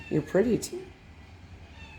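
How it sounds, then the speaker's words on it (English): A cat meows a few times up close indoors in a rental apartment, mixed in with a person talking to it, then things quiet down. "I think that's a cat checking me out."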